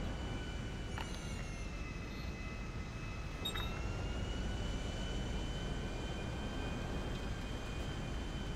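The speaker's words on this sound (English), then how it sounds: "I got an airplane coming your way" Airplane at an air show, a steady engine drone that stays fairly distant and level throughout, with a faint whine on top and no talking.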